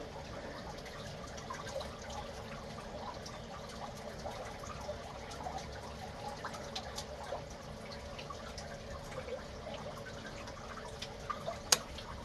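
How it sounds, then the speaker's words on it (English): Water dripping and trickling from a leaking plumbing fitting ahead of a flow switch on a pressure tank, faint and close, with scattered small drips over a low steady background. "Pretend we got a leak before the flow switch."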